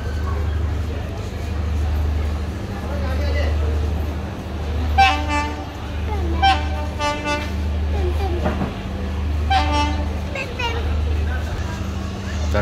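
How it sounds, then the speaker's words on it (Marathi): A train pulls into Kankavali station with a low steady engine hum, while several short horn toots ring out in bursts from a crowded platform, with people talking throughout. "तर आपली गाडी आली आहे, ही बघा"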